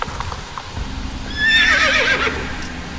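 A pony in the video game Star Stable Online lets out a loud, close whinny midway through, preceded by hoof clip-clops and ambient game sound.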